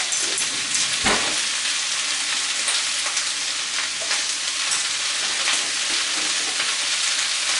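Onions caramelizing in a pan for a dip sizzle loudly and steadily up close, while a rubber spatula scrapes and stirs through them with occasional soft knocks. Nobody speaks.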